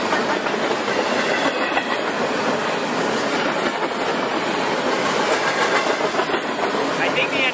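A long BNSF freight train rolls past on the tracks close by, with a loud continuous rumble, rhythmic clickety-clack from the wheels and some hiss. The sound stays steady for the whole stretch.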